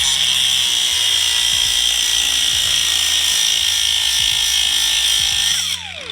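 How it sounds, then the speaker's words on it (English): A loud, steady high-pitched power tool grinds through steel bolts, cutting off their heads to make a homemade tap and die for Swift springs on a Honda Civic Type R; the whine holds continuously for several seconds before easing near the end. "So right now what we're doing is we're cutting the head of the bolts off."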